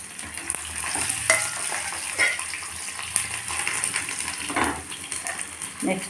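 Cumin seeds, dry red chillies and garlic frying in hot oil, a steady sizzle with repeated scraping stir strokes over several seconds, close and fairly loud with no talking.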